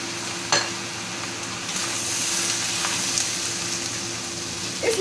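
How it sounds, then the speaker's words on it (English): Tomatoes sizzle and fry in a pan for nasi goreng, a steady close crackle broken by a few soft scrapes of stirring, with no one speaking. "Stir in all the tomatoes"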